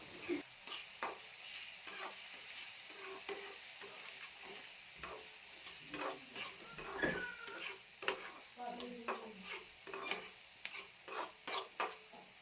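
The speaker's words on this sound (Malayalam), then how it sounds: "മീൻ വറുത്ത് കോരിയ പാത്രത്തിൽ തന്നെ കുറച്ച് വെളിച്ചെണ്ണം കൂടി ഒഴിച്ച് അതിലേക്ക് കുനകുന അരിഞ്ഞ സവാള ഇട്ട് കൊടുക്കുന്നുണ്ട്" Finely chopped onion frying in coconut oil in the pan just used for frying fish, a constant close sizzle with frequent scraping and clinking strokes of a spatula stirring through it, no voices.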